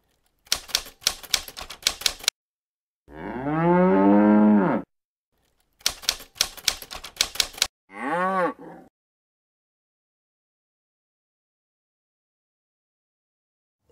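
Two bursts of rapid mechanical typewriter keystrokes, each followed by a loud, drawn-out cow moo, the second moo shorter; silence fills the long tail.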